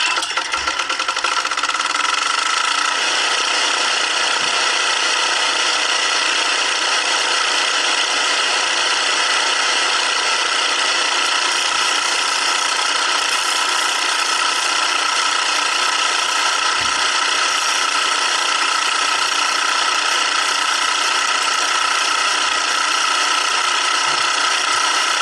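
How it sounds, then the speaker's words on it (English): A generator runs at night on a farm to power welding, giving a loud, continuous, unchanging drone that fills the whole stretch without any talk. "Time to weld. Start the generator."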